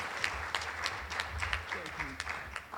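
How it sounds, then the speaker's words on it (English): Audience applause welcoming a speaker at a community workshop: steady, moderately loud clapping from a crowd, with some voices underneath. "Give him a warm round of applause and have a great time."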